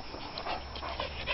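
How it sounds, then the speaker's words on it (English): Several dogs in a house whimper and pant softly, with short high whines and breathy puffs repeating unevenly for a moment, fairly close and without talk. "So there's a total of 10 dogs in the house."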